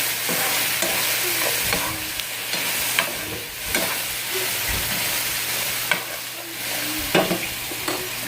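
Hoisin sauce, a sweet Asian barbecue sauce, stirred in a hot pan for crispy tofu cups: a loud steady sizzle runs throughout, broken by regular scraping strokes and light clacks of a utensil against the pan.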